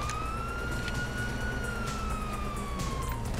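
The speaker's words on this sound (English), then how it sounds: "You hear that? Sirens!" A police siren in Grand Theft Auto V wails steadily, its pitch rising and falling slowly over a low background rumble, sounding somewhat distant.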